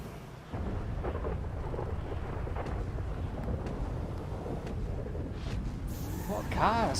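Rolling thunder rumbles through a night-time street race in GTA Online, a continuous low roar with a sharper crack near the end, as voices murmur underneath.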